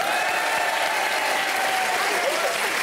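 Audience applause fills a French TV studio during a live entertainment show, a steady, dense wash of clapping from a crowd lasting throughout, with faint voices mixed underneath.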